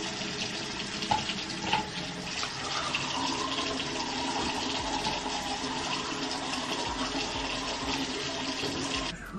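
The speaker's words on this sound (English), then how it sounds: "I'm about to brush my teeth" A bathroom tap runs continuously for tooth brushing, a steady broadband hiss of flowing water with a few faint clinks and no talking.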